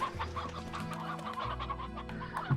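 Hens in the video game Slime Rancher cluck in a steady run of short, close, clear calls, with no talking over them.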